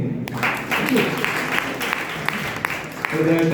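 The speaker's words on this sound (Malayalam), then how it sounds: "കൈയടിക്കുന്നേ." Audience applause at an SNDP branch foundation day celebration with music and dance, a steady clatter of clapping held for several seconds before a voice picks up near the end.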